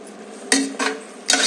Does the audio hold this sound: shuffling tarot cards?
no